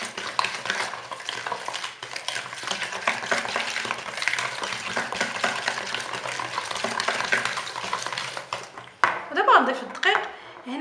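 Fine semolina cake batter for an apple harcha being mixed in a bowl, a utensil scraping and churning in a steady rhythm under a voice, with a brief pause and some knocks near the end.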